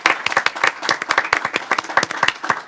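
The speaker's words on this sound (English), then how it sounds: "Let's give everyone a round of applause." A city council audience claps for award winners in a small, sparse round of distinct individual claps at a lively uneven rhythm, fairly close.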